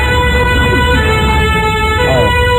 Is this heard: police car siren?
yes